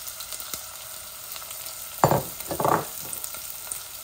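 Medium onion dropped into a pan of browned garlic, a steady background sizzle broken by two loud bursts of crackling spatter as it hits the hot oil, no talking.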